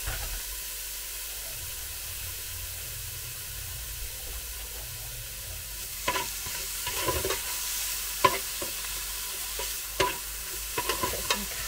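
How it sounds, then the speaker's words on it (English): Chopped bacon bits from two rashers frying in a Ninja Speedi, a soft steady sizzle and hiss with a few stirring scrapes toward the end, no voices. "This is literally just 2 rashers of bacon that I have chopped up, and I'm just going to cook those"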